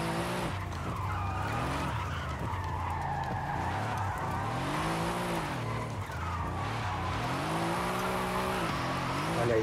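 A car drifts in Forza Horizon 5, its tires squealing continuously and loudly over a droning engine whose pitch swoops up and down through repeated slides.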